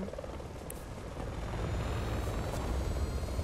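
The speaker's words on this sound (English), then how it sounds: "Thanks, fucking friendly helicopter." A helicopter in the Resident Evil 6 video game drones with a steady, rumbling rotor wash, continuous and fairly loud with no talk over it.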